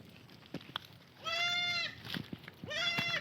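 An Anglo-Nubian cross mother goat on a farm gives two clear, fairly close bleats, each about half a second long, over a quiet outdoor background with faint rustling.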